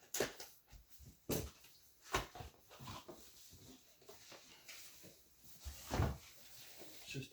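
A cardboard box for The Last of Us Part II Ellie Edition is cut open across the top, giving a run of close scraping, tearing and papery knocks in uneven bursts, with a stronger thump and rustle near the end.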